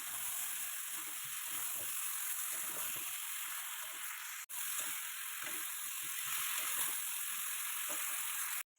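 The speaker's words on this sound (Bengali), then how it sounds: "সব মশলা দেওয়ার পরে কিন্তু ভালোভাবে পাঁচ থেকে ছ মিনিট কষতে হবে" Curry with green chillies and spices sautéing in a pan for a pangas and tengra fish dish, a steady close sizzle with faint stirring scrapes, briefly cut off near the middle and again at the end.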